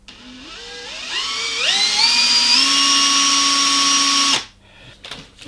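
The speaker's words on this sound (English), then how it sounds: "If I now spin it round with a battery drill" A battery drill spins a small DC motor wired to an LED, whining as it ramps up in steps to a steady high-pitched tone that holds for a few seconds, then cuts off abruptly, leaving faint rattling.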